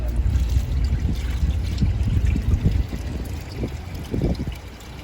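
Water pours and splashes into a 90-gallon fish tank with an uneven gurgling trickle, loud and close, easing slightly toward the end.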